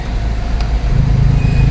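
Steady low rumble of an Emzoom R Style car's exhaust through its muffler, a continuous deep drone held at a constant level for a couple of seconds.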